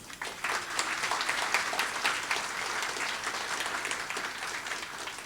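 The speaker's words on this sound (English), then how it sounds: "let's give another big round of applause to all the winners" A crowd at a technology award ceremony applauds steadily, a dense wash of many hands clapping at a distance, sustained throughout without letting up.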